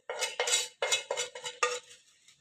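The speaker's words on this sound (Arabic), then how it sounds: "هنقلب كده كله كويس في بعضه اهو" Onions and peppers are stirred into a cooking pan with tomatoes, giving a series of about six scraping, clattering utensil strokes against the pan, close and fairly loud, fading at the end.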